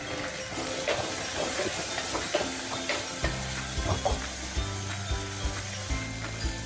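Onions and peas sizzle in a pan for millet upma, a steady close hiss broken by occasional stirring clicks and scrapes, with a low rumbling hum joining partway through.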